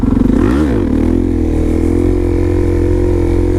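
A Harley-Davidson Dyna motorcycle engine rumbles loudly and close, a deep steady throb with a brief rise and dip in revs near the start.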